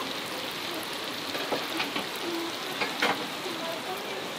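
Rain falling on a converted bus parked in Canada, a steady dense patter on the roof and windows with a few louder drops, fairly close, as a faint voice speaks now and then.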